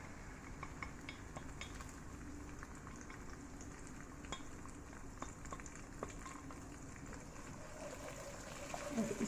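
Onion paste made with milk frying alongside light-browned ginger-garlic paste in a pan for restaurant-style mixed vegetables, a quiet continuous sizzle with occasional faint clicks of a spoon against the pan, no voices.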